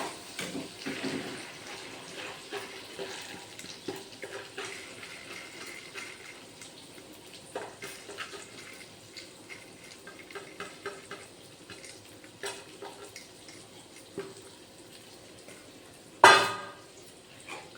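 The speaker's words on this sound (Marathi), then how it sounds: "तर आता छान असं मोठ टाकत आहे" Moth beans go into a pan of sizzling masala with a soft frying hiss and scattered stirring and scraping knocks, quiet and close, ending in one sharper clatter.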